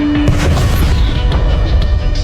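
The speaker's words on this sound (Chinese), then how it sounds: "先是高调炸毁自己的汽车" A car is blown up outside a television station building in a film scene, heard as a loud, deep explosive boom with a rumbling, crackling aftermath that fills the whole moment.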